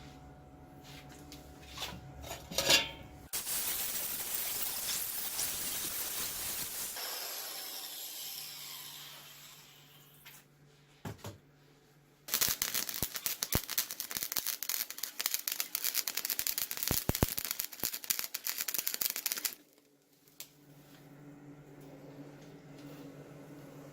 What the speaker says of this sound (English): So now I'm going to take the grinder and see if I can clean those up a little better